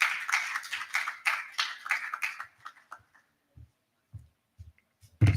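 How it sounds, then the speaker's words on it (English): Audience claps for a speaker at a housing show event, a dense burst of clapping that thins and fades within about three seconds, followed by a few scattered thumps and near silence. "Please, a round of applause for Judy."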